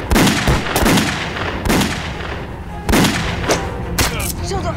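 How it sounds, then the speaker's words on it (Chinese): Heavy gunfire from a war film about anti-Japanese guerrilla fighters: four or five loud, booming shots spaced about a second apart, each with a rumbling tail, with no talk over them. "邢木灵，我引他开枪，你把他揪出来。"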